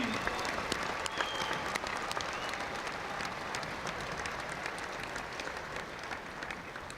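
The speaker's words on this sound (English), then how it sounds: "Let's give a round of applause to our many veterans and members of the military that are here this evening." An evening audience gathered for a flag retirement ceremony applauds military veterans, sustained steady clapping from many hands filling the space at a moderate level for several seconds.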